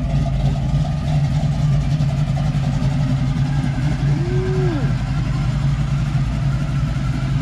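A donk car's engine idles close by, a steady low rumble holding level the whole time, with one brief rising tonal sweep partway through.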